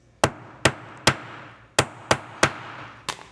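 Seven sharp metal hammer strikes flattening a rivet on a leather strap bracelet, spaced unevenly about half a second apart, close and crisp with quick decays.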